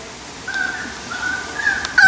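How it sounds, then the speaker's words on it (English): Thin, high bird calls in Australia drawn out in long tones, fairly faint against a quiet outdoor background, with a brief louder chirp near the end. "I haven't heard the sound of birds for ages."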